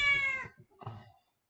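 A house cat just awake from a long nap gives a loud, drawn-out meow, then a short pause and a second, lower and rougher meow, heard close and alone.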